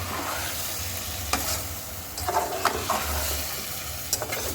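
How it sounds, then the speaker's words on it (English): Beef fries in a pot for Kenyan beef pilau with a constant crackling sizzle, broken by several scraping stir strokes of a utensil against the pot, close by and without speech. "Give it a stir."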